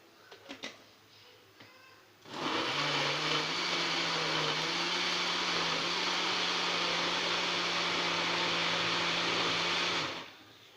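Blender whirring through milk and banana for a milkshake starts after a few soft kitchen clatters, then runs as one loud, steady, even whine for about eight seconds before cutting off abruptly.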